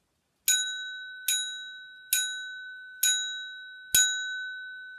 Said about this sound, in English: it's the bell. The bell is making that noise.